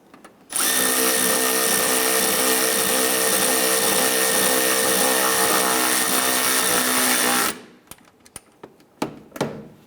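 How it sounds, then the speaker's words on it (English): A power tool runs continuously for about seven seconds while snugging an exhaust manifold nut on a 1995-2001 Ford Explorer, then stops and is followed by a few sharp clanks and taps of metal tools. "Let's snug down that nut"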